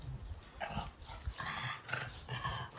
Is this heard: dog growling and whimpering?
yes